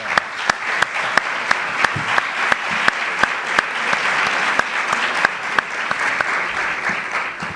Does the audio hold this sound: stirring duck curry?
no